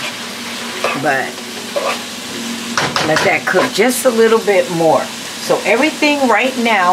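Ground beef and canned beans browning in a hot pan on a stovetop, with steady sizzling and frying and a spoon scraping and stirring, while someone talks over it throughout.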